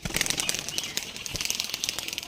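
A Madras pigeon is released and beats its wings, a quick run of close, loud flapping claps in fast rhythm over about two seconds, with no voices.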